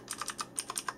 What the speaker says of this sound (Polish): No i słyszymy oczywiście, że są to przełączniki 4MX Blue.